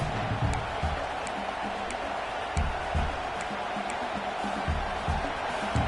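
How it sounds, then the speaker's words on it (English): Stadium crowd noise in a college football video game matchup against USC, a dense steady roar with faint cheering that swells a little at moments, continuous and loud, with a commentator speaking over it. "Fourth down, and this crowd is making it miserable on this offense."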